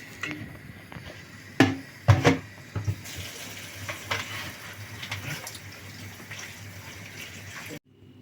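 Tap water runs steadily into a sink, with a few sharp clunks and splashes as blanched tomatoes are handled under the cold stream, stopping abruptly at the end.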